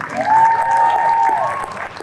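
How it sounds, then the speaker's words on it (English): An audience claps together in a steady burst of applause that holds for a couple of seconds before starting to thin out. "Round of applause, everyone."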